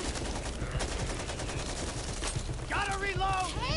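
Rapid automatic gunfire from the video game Back 4 Blood, played on nightmare difficulty, rattles loudly and continuously as players talk over it, with a burst of creature screeches near the end.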